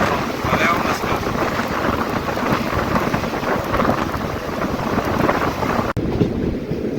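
Rain and wind noise rush steadily around a moving train in a general coach on the Rayagada to Koraput line through green hills, a dense broadband wash that cuts off abruptly near the end.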